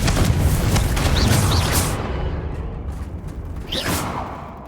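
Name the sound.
Confringo fire-blast spell exploding, from the video game Hogwarts Legacy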